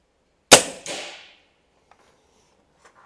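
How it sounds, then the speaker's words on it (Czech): A single sharp crack from a Black Bunker BM8 folding air rifle, loud and close, with a short second knock and a fading tail, then near silence with faint small clicks. "ten výstřel, jo, opravdu, že byl tiší"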